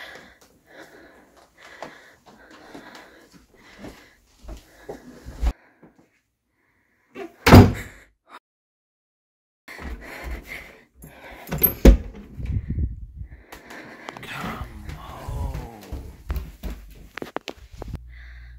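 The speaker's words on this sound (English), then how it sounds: "The door just fucking swung open." A door swings open in a quiet interior, heard as a sharp bang partway through, set among soft shuffles, creaks and small handling noises that come and go over a long, tense stretch.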